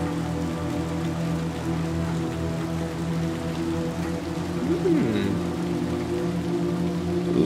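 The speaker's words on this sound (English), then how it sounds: "Oh, it's still raining." Steady rain falling in the video game Little Nightmares, a constant hiss of drops on surfaces under a low ambient drone, with a brief warbling tone rising and falling partway through.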